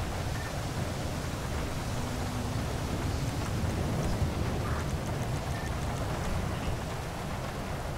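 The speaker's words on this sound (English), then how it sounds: "This rain is so loud." Heavy rain pours steadily and loudly the whole time, a dense hiss with no breaks and no talking.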